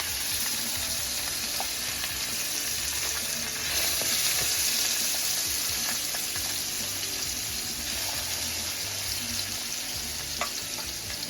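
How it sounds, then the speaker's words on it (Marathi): A spiced mixture dropped into hot oil fries with a dense, loud, continuous sizzle and crackle, steady throughout with faint clinks, no voices. "मस्तपैकी मिक्स व्यवस्थित फायनली तेल तापल्यावर तेलात टाकले"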